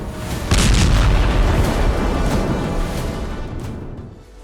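Heavy bombardment on a shelter camp in northern Gaza during wartime, a loud booming blast followed by a long rumbling roar that slowly fades over several seconds.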